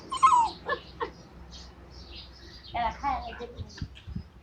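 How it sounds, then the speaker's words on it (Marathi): A dog tied up near a workshop whimpers and yips in high, wavering cries, several short bursts close by, with some background noise. "त्या आजींचा कुत्रा आहे तो"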